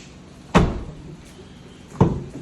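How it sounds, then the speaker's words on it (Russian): The door of a Kia Rio 3 swings freely with a worn check strap that no longer holds it. It bangs twice, each a heavy thump about a second and a half apart, close by. "Kia Rio 3 с вечной проблемой. Дверь не фиксируется."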